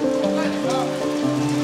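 Rain falls at an outdoor music festival, a steady wash of drops beneath a voice talking nearby.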